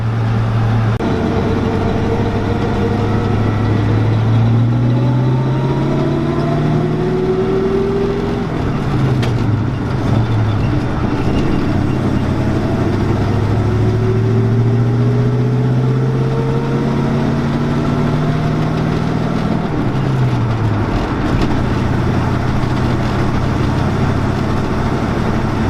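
A 1972 Dodge car's engine runs steadily for the whole stretch, a loud, close, continuous low rumble whose pitch rises and falls as it revs, with no talking over it.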